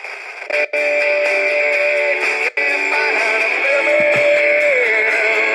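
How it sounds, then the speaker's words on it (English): A RadioShack AM/FM/weather band/shortwave radio tuned to an FM broadcast plays steady music with a buzzing, slightly distorted tone and two brief dropouts, with no clear talking. "Let's go No FM. So you can hear FM."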